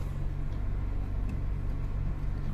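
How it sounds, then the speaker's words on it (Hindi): A Toyota Glanza S engine idles at about 1500 RPM with the AC on, a steady, low hum, constant and unchanging throughout. "मैंने गाड़ी को स्टार्ट किया"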